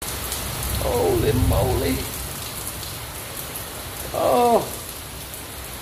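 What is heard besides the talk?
heavy rain falling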